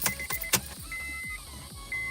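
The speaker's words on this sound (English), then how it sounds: "Oh, I heard fuel pump." A 2005 Honda Accord Hybrid's fuel pump primes as the ignition is switched on after a fuel pump replacement, giving a faint whine behind a few sharp clicks and soft thumps that come in quick succession over about two seconds.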